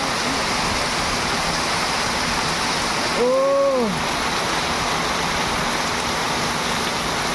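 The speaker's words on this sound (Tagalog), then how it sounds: "Wow, lakas ng ulan no." Heavy rain roars in a dense, steady wash throughout, with a brief spoken exclamation partway through.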